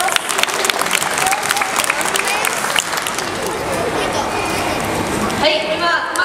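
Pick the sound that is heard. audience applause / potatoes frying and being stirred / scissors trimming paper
audience applause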